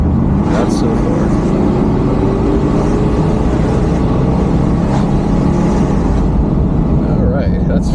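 Buick barn find with a 307 V8, sitting unused for years, driving down the road at about 50 mph, its engine a steady continuous drone with road noise throughout.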